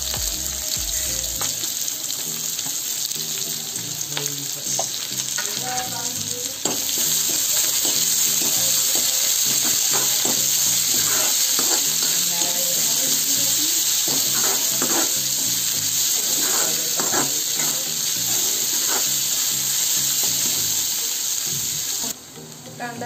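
Onion sizzling and frying steadily in hot oil for Maharashtrian pithla, with clinks and scrapes of stirring throughout and a brief dull knock near the start; no talk.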